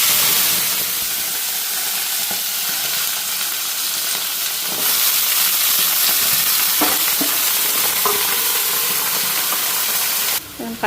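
Malabar spinach stems frying in hot oil in a pan with nigella seeds: loud continuous sizzling and hiss, with several scraping stirs of a spatula in the second half, close up and without talk.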